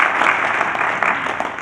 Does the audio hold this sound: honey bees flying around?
no